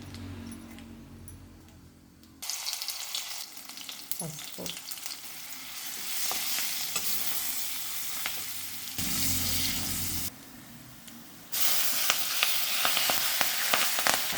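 Oil crackles and sizzles as spices fry, growing louder in stages with sharp popping clicks; a brief spoken word is heard near the start.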